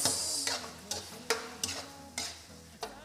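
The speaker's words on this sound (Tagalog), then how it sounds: "So ayan, haluin natin guys." A spoon stirs menudo in a sizzling pan, about half a dozen distinct scraping strokes spaced roughly every half second over a soft frying hiss.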